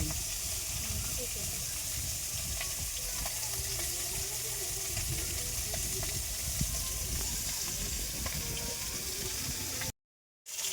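Continuous crackling sizzle of rohu fish frying in hot oil, steady and close, cutting out abruptly near the end.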